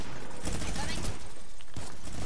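Rapid, continuous minigun fire in a video game, a dense loud rattle of shots sustained across the whole moment with a brief dip near the end, and voices talking over it.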